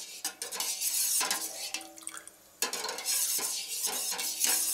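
Sugar and water being stirred together in a pot for gulab jamun syrup, a run of close metallic scraping and clinking strokes with a short pause midway.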